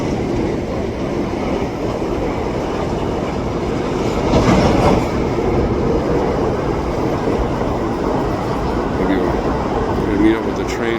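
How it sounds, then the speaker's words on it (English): Freight train with tank cars rolling slowly through a foggy rail yard, a steady loud rumble with wheel clatter throughout, swelling briefly midway, with someone talking over it. "looks like some tank car, so I know it could be not just on the train, but tank car"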